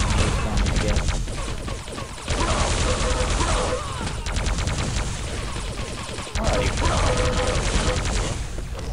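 Rapid bursts of grenade explosions and weapon fire pile up in a Quake 3 Arena deathmatch, dense and loud with brief gaps, while a voice speaks faintly underneath.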